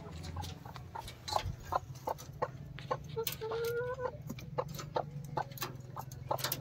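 A village rooster clucks in repeated short, sharp calls close by, with a few drawn-out notes, against a quiet rural background.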